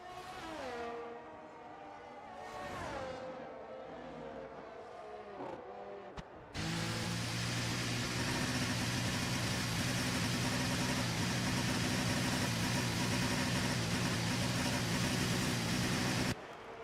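F1 car engines in F1 23 at the Las Vegas track, first high revving whines rising and falling, then a sudden steady loud drone as the car sits in the pits, with no talk.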